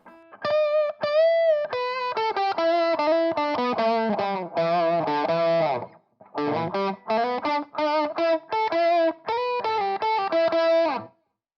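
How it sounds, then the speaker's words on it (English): Bluesy electric guitar solo played through a Torpedo cab simulator with a back-of-the-cabinet mic tone and reverb, sustained bent notes and quick phrases ringing out clearly with a short pause midway. "bluesy kind of solo tone with a bit of that back of the cabinet thing going on, as well as the reverb"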